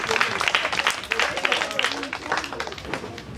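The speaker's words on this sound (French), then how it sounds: "Applaudissez pour vous." An audience at a foundation celebration claps, a dense patter of many hands that stays steady and fairly close throughout, with voices mixed in.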